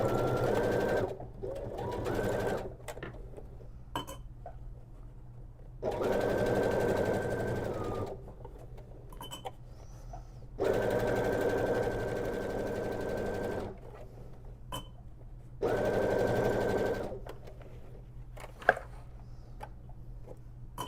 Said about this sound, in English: So I'm sewing at 1/4 of an inch still.